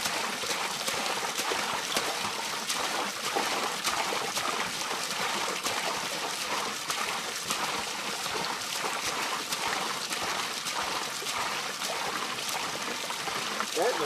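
Water runs steadily into a 110-gallon plastic barrel outdoors, a continuous close splashing trickle with an even, unbroken wash of sound and no voices.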